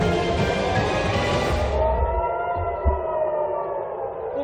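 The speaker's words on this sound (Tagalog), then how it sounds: "Umalingaw-ngaw ang mga sirena sa West Bank at Tel Aviv, Israel dahil sa missiles ng Iran" Air raid sirens wail across Tel Aviv and the West Bank in Israel during an Iranian missile attack, a loud sustained rising and falling tone with a rumbling low background and a brief thump near the end.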